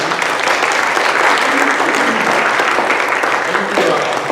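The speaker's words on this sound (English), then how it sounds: "If anybody is an usher or greeter, please give them a round of applause." Steady, full applause from a Sunday morning church congregation at First Unity Church of St. Louis, a dense continuous clatter of many hands with faint voices mixed underneath.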